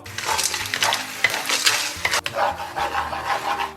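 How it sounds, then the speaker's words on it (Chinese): Rock sugar is stirred in a little hot oil in a wok to make caramel colour, giving a close, lively sizzle with repeated scraping strokes of the spatula against the pan. "咱们锅里边稍微来一点点油，然后咱们炒个糖色。 咱们给锅里边来点冰糖"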